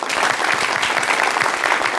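Brisk audience applause on a show welcomes a poet to the stage, a dense, even clapping that stays steady and moderately loud for the whole short stretch.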